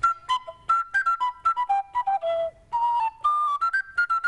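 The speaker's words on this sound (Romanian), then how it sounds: "Ne demonstrați ce înseamnă o clasică la fluier?" A fluier, a traditional flute, plays a lively classical tune in quick, clear, bright notes, some held and some ornamented, close and alone with short pauses between phrases.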